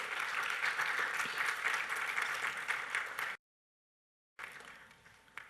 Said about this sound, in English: A round of applause for Dr. Epiphania Bonzi.